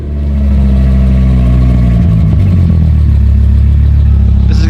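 A 1000+ hp front-wheel-drive Audi RS3 drag car at a drag strip, its engine roaring loud and close at high steady revs with a brief dip and recovery, no voices.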